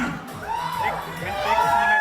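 Audience at a Bollywood star's appearance at Deltin Royale in Goa cheers, whoops and screams in a steady wash of crowd noise that swells louder toward the end.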